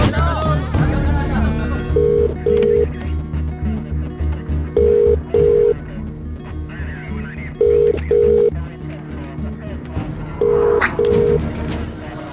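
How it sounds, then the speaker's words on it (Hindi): Telephone keypad tones sound in repeated paired beeps over a steady background of music and voices, recurring every few seconds. "फोन करना है।"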